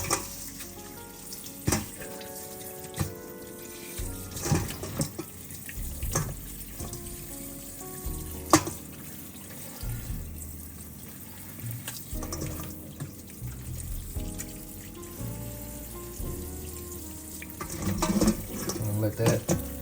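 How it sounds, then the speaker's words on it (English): Cold water from a kitchen tap runs steadily over frozen shrimp in a sink, a continuous splashing rush with scattered clinks and handling noises from nearby. "I'm just gonna run some cold water over this shrimp."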